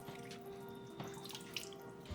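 Tap water running steadily into a pot for a cauliflower and tofu curry, a continuous broadband pour with small splashes, close and moderately quiet, no talking.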